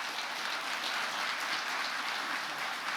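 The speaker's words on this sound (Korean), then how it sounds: "저분 열심히 하시도록 박수 한번 쳐드리는 걸로" Applause from the audience at the 60th-anniversary ceremony of the Korean Commercial Arbitration Board, a soft, even wash of clapping heard from a distance.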